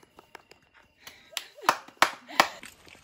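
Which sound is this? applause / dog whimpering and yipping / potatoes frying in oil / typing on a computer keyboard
applause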